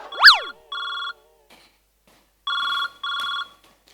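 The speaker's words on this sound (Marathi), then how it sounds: "माझ्या नवऱ्याचा फोन येतोय" An electronic telephone ringtone in a Marathi comedy sketch office scene: an upward chirp, then a short burst, and after a pause two more even ringing bursts, clear and close with no talk.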